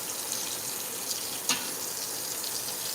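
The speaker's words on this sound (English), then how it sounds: "if you rinse your noodles with water, make sure the water's hot" Hot tap water runs steadily over cooked spaghetti noodles in a sink, a continuous hissing splash with a brief louder spatter partway through.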